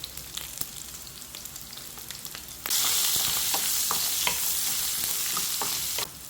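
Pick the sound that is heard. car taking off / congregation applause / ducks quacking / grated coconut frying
grated coconut frying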